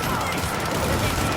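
Gunfire in the action game Warhammer Chaosbane, a dense, loud burst of rapid shots and impacts packed into a continuous barrage with crowded game noise and a voice talking over it.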